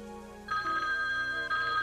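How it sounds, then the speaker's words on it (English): A telephone rings with a steady electronic bell tone that starts partway through and continues over a quiet background, fairly close and clear. "Your telephone is ringing, Lieutenant Niblick."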